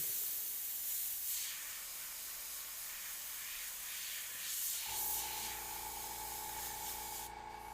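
Custom paint airbrush spray gun spraying paint, a continuous close hiss of air that runs steadily throughout, with a steady compressor-like hum joining partway through.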